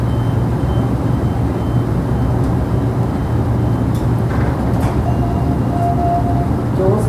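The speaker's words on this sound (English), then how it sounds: "The very first Perth Stadium special departing from Mandurah." Perth Stadium special passenger train pulling out of Mandurah station, a steady loud low rumble of the running train with a brief tonal beep partway through, no talk.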